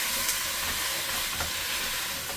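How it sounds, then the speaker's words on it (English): Onions frying and caramelizing in a pan give a steady, dense sizzle that holds at an even level throughout, close and continuous, with no talk. "Just checking the onions. Make sure they're caramelizing."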